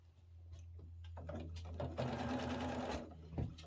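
A sewing machine stitches together overlapping pieces of stretchy art quilt fabric, a steady close rapid whir with a low motor hum throughout, rising slightly mid-run and then easing off.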